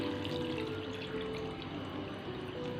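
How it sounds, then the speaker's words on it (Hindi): Cold water poured over soaked lentil dumplings for dahi vada, a steady close splashing stream of water filling a bowl with no talking. "अब मैं इसमें डाल दूंगी ठंडा पानी"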